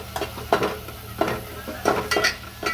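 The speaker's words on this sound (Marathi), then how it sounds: "पुन्हा थोडंसं मी चमच्याने परतवून घेतलेलं आहे" Chopped capsicum being stirred in hot oil with a spoon: repeated scraping and clinking strokes against the pan over a faint sizzle, close and rhythmic, with no talk.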